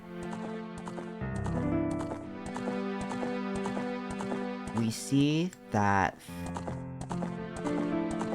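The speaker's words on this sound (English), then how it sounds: "the horse, not the horse head, but an actual full-blown horse" Epona, the horse in Zelda: Ocarina of Time, trots with steady in-game hoofbeats beneath looping game music, while someone briefly talks over it.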